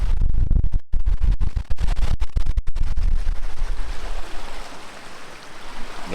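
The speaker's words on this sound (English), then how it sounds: "I thought I'd come down to the water and show you the waves." Lake waves washing onto the shore in strong wind, a loud close rush of water with heavy wind buffeting and crackling across the microphone.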